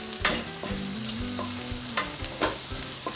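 Berbere spice sizzles and fries in a hot pan over carrots, with repeated scraping stir strokes cutting through the steady crackle, close and fairly loud, no voices.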